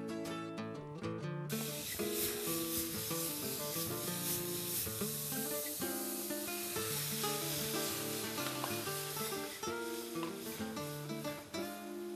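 Fish sizzles and spits in a hot frying pan at a cooking demonstration, a dense steady crackle running the whole time under continuous loud music.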